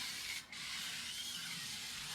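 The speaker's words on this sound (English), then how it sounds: "Give that a really good spray." A steady hiss of an aerosol cooking spray coating a pie pan, close up, held for about two seconds with a brief pause near the start.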